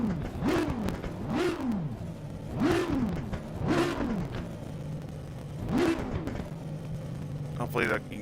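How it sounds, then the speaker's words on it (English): Race car engine in the video game Assetto Corsa Competizione, revving up and dropping repeatedly in rising and falling sweeps as gears shift, a steady loud drone with talk faintly present. "Hopefully you can hear the car."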